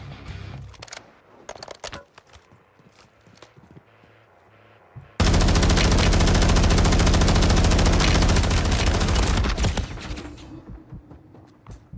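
Gunfire in Call of Duty: Warzone: scattered quieter shots and clicks, then a loud, sustained automatic burst rattling for about five seconds before tapering into a few trailing shots.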